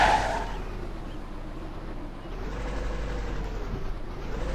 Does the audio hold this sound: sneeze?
no